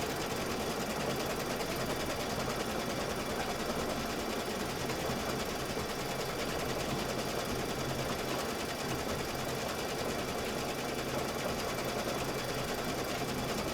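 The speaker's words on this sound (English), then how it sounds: "now I can just go ahead and stitch this out" An embroidery machine stitches a quilting design in the hoop, a continuous, even mechanical whirr and rapid needle chatter holding steady throughout with no voices.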